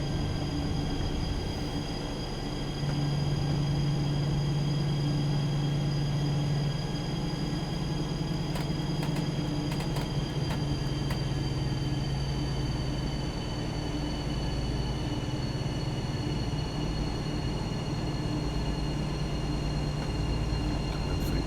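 BR218 diesel locomotive running in a train simulator game, a steady droning engine hum with a low tonal note and a high whine held throughout, close and continuous with no talking.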